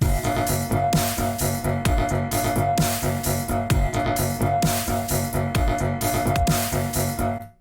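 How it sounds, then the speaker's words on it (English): A heavily distorted, crunchy drum groove, processed with the Bitwig Studio Distortion device, loops steadily with punchy kicks and gritty snares over a repeating chopped sample, loud and upfront with no voices. "That's a distortion, pretty much."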